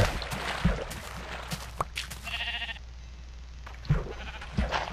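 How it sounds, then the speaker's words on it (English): Sheep in the Minecraft video game bleat in a short wavering call partway through, set against steady low background hum and scattered clicks from gameplay. "There's a brown sheep."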